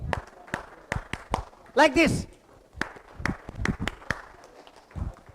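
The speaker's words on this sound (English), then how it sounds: "When I say clap, stop writing and clap with me" A teacher and a classroom of students clap hands together in a classroom: a series of sharp, separate claps in an uneven rhythm, with a teacher's voice speaking between them.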